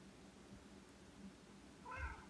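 A faint, quiet cat meow rises near the end of an otherwise hushed stretch, brief and somewhat distant.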